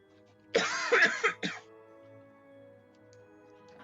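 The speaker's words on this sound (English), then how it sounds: "I cough because I talk far too much." A streamer coughs in a short cluster of three or four harsh, throaty bursts close to the microphone, followed by quiet background with faint game sounds.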